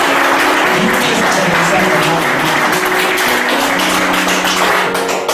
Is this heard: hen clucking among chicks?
no